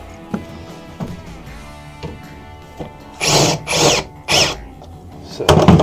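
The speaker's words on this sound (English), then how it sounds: "Just need a drill and a battery." A cordless drill drives self-tapping screws into the metal wheel well of a Bluebird bus, with a few short clicks before three brief whirring bursts and a final louder burst, close by.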